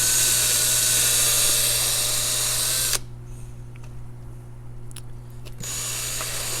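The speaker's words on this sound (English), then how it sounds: "I'm going to drill some holes down the ends" A power drill boring holes in styrofoam whines loudly and steadily, then cuts out abruptly, leaving a quieter mechanical hum with faint clicks before the drill sound returns.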